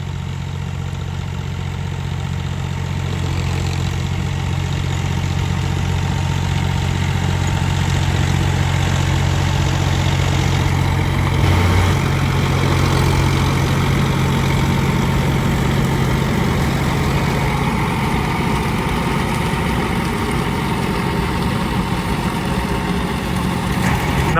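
A John Deere 45 hp tractor engine running steadily nearby, a loud, constant low diesel drone with a firm throb that holds unbroken for the whole stretch, with no talk over it.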